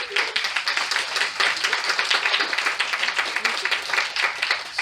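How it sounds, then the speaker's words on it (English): An audience claps in a round of applause for Georgina at a design-for-wellbeing launch event, a dense steady patter of many hands lasting several seconds with no talking over it. "Georgina, give her a big round of applause."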